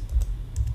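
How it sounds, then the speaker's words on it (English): Typing on a computer keyboard: a short run of light, close key clicks in an uneven rhythm, with no voices. "So if we type slash x"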